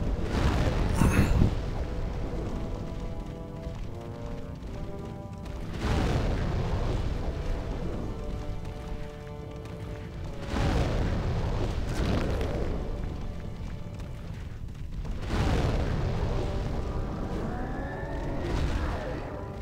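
Boss fight explosions from the Flamelurker in Demon's Souls: repeated heavy booming blasts roughly every five seconds, each with a rumbling fiery tail, amid game music and effects.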